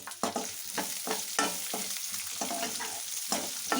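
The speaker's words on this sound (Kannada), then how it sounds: "ಈರುಳ್ಳಿ ಸ್ವಲ್ಪ ಚೆನ್ನಾಗಿ ಫ್ರೈ ಆಗೋವರೆಗೂ ಅದನ್ನು ಫ್ರೈ ಮಾಡ್ಕೊಳ್ಳೋಣ." Chopped onion fries in a pan for a brinjal curry, a steady close sizzle broken by regular scraping stirs from a spoon, with no voices.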